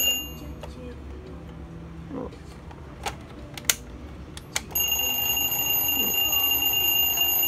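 Alarm ringing from a Vietnamese analogue sweep-hand alarm clock starts partway through and continues steadily and loud to the end, after a few clicks and a brief murmur of talk.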